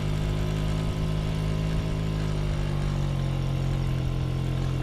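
An old Mobyx moped engine, left unrun for over forty years, idles steadily and loudly up close, with a constant low putter and no pauses.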